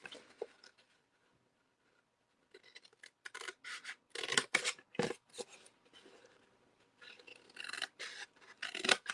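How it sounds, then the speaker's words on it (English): Scissors making straight cuts through cardstock up to a center score line for a mini Easter basket craft, a run of close, crisp snipping and rasping strokes in irregular bursts with quiet pauses between. "we are going to cut up to that center score line. Straight cuts."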